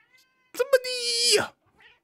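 A pet cat gives a single drawn-out, wavering meow lasting about a second, close and fairly loud, opened by a couple of short chirps and followed by quiet.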